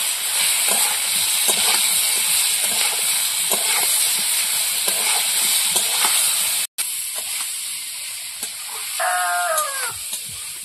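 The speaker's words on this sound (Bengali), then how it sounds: "এবার একটু চালতাগুলোকে ভেজে নেব।" Pieces of chalta (elephant apple) fry in hot oil for a pickle, a steady, close hiss and crackle throughout, with a short bleat-like animal cry near the end.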